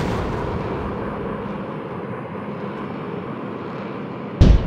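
Gunfire and aircraft engine noise fill a WW2 dogfight video game, a steady roaring drone with a sudden loud blast near the end.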